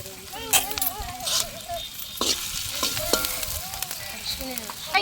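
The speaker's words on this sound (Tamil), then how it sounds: "பச்சை மிளகா கீழே வச்சது போடுறேங்க" Green chilies crackle and sizzle in hot oil for vegetable fried rice, with loud spitting bursts and stirring scrapes up close, while a person talks over the cooking.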